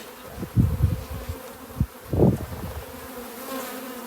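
Honey bees buzz close by at a hive, with a few louder bursts as individual bees pass near, over a constant soft hum.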